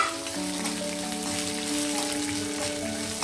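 Dried red chillies and ginger pieces sizzle in hot tempering oil for pulihora, a steady, close crackling hiss that runs unbroken with no one speaking.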